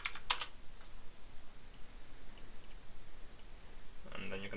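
A few quick computer-keyboard clicks come early, then faint scattered key taps under quiet room noise before a voice starts near the end.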